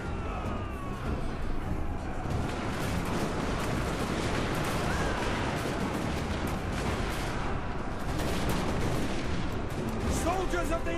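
Hand gunners firing in the Total War: Warhammer 2 battle game, a dense, continuous crackle of gunfire and rumbling battle noise, loud and unbroken throughout.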